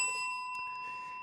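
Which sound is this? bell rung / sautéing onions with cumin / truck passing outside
bell rung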